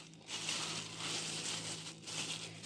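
A plastic bag being handled and crinkled while pickled peppers are packed, a steady close rustle that runs almost unbroken through the clip, with brief dips near the start and around the two-second mark.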